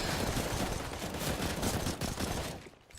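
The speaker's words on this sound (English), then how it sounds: "As we see some gunfire" Rapid gunfire from the video game CSGO rattles in a dense, continuous barrage during a rush, then tapers off near the end.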